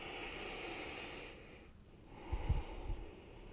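Steady breathing during a yoga flow, a soft continuous airy exhale that fades out, followed by a short low snort-like puff of breath, close and quiet.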